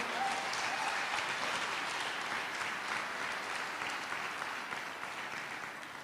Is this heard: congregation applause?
yes